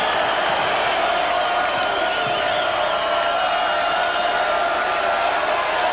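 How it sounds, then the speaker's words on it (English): A packed crowd at a 1990 college basketball game between Duke and Clemson roars in a steady, loud, unbroken wash of cheering that fills the arena. "listen to this crowd."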